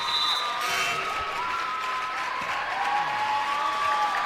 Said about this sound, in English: Get a nice ovation from the crowd